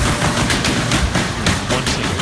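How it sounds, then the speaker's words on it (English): Rapid automatic gunfire erupts during an attack on a concert hall, loud sustained bursts of shots filling the scene with no voices. "when suddenly the gunfire drowns the music."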